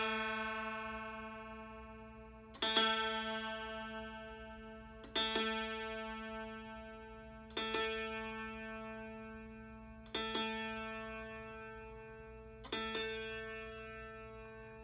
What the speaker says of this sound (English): as I pull the melody string closer back into pitch with the middle string, you'll hear those beats, those waves start to slow down